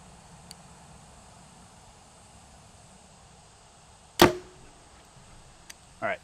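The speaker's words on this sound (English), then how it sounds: "I'm going to shoot one arrow here about the distance I will stand from the paper" Arrow shot from a Mathews TRX 38 G2 target compound bow, one sharp, loud release snap near the middle over quiet hiss, then a brief softer impact sound near the end.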